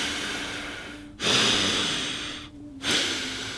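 A voice imitates a movie ape's heavy breathing with two loud, rasping breath cycles, each a long exhale followed by a sharp inhale, close and alone.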